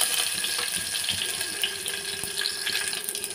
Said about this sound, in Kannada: ಸಾಸಿವೆ ಒಂದು ಸ್ವಲ್ಪ ಚಿಟ್ಟಪಟ ಅನ್ನಲಿ.